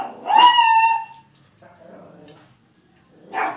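A dog barks and yelps loudly near the microphone while trying to get at a cat, followed by softer whimpering sounds and a brief later outburst.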